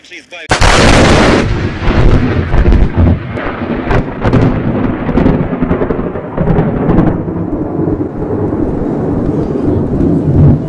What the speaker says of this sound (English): Lightning feels just indescribable. The sound, it's like an artillery explosion, only louder and sharper.